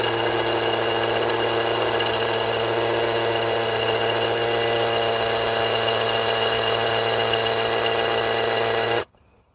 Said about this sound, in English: This is a 1332 masonry bit. See how this does in concrete masonry.